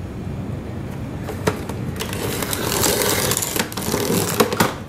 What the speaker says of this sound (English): So I'll probably cut that off first, and then I'll cut my 6-inch pieces.